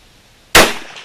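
A single sharp rifle shot from a .30-30 Winchester firing powder-coated bullets, loud and close, bursting out of quiet and trailing off in a short echoing decay.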